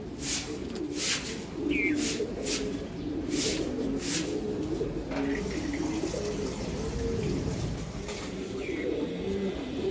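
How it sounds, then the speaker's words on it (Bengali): Pigeons, Giribaz high flyers among them, keep up a continuous low cooing murmur close by, with faint splashing water and brief sharp chirps mixed in over the steady flock sound. "এক পেয়ার কবুতর দেখেন"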